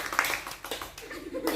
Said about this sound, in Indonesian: Ya, tepuk tangan buat dulu.